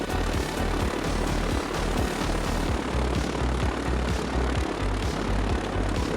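A propeller aircraft engine drones loud and steady from a flight simulator game, a continuous close rumble with a rhythmic low throb and no talking.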